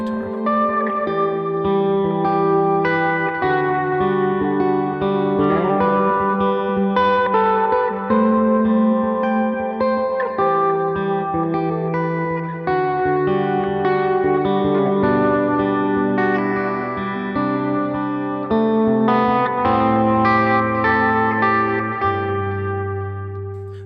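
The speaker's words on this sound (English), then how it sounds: "one last section of sounds that leans into more of the subdued ambient kind of textures with some delay and reverb" An Orangewood Del Sol offset electric guitar, a limited run collaboration with Tritone Guitars, plays subdued ambient textures soaked in delay and reverb, with overlapping sustained notes and echoing repeats throughout, no talking.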